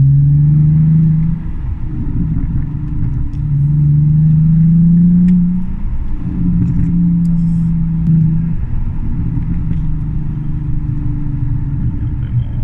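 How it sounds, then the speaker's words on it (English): A loud, close BMW E46 exhaust with the back box deleted drones as the throttle is blipped on and off, the engine note rising and falling, with faint pops and crackles scattered through. "if I just go on and off the throttle a bit, usually it gives a little crackle"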